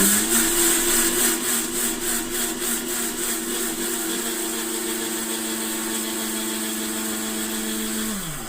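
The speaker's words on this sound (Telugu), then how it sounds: "ఇలాగా మిక్సీ పట్టేసుకున్న తర్వాత" A kitchen mixer grinder grinds flattened rice (poha) into powder, a loud close whirring motor drone with a steady pitch and a rattling texture that winds down slightly at the end.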